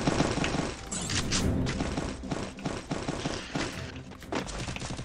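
Gunfire in the video game Free Fire comes as dense bursts of rapid shots and thuds, loud and close, with no speech over it.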